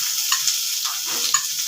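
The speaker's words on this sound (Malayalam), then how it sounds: "സവാള ഇട്ട് കൊടുക്കുക." Sliced onions sizzling in hot coconut oil in a pan, a soft continuous hiss with faint stirring scrapes, close by and with no speech.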